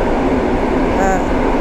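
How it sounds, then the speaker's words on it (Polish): Long-distance trains rumble in a tunnel beneath a Warsaw station, a steady low roar with a brief metallic squeal, heard close and continuous under a person speaking. "pode mną pociągi dalekobieżne jadą, więc przejechały na Śródmieście"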